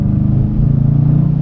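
Dodge Challenger R/T with a Hemi V8 growling loud and close in a short, steady low-pitched burst as the throttle opens, with no voices.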